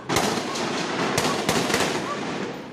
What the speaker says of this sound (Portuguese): Esse vídeo mostra o tiroteio dentro da comunidade.